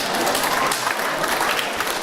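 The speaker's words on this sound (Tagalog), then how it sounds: "Palakpak nga naman." A church congregation claps in a steady, continuous round of applause, a dense patter of many hands filling the room with no pause.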